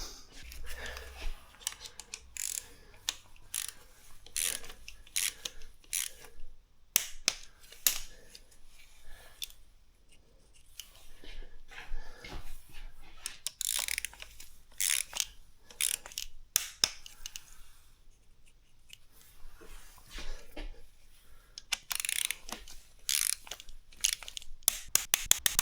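Torque wrench ratcheting as it tightens a bolt to 12.5 on a new gearbox, a long run of quick metallic clicks in bursts with short pauses, close and fairly quiet, with no voices.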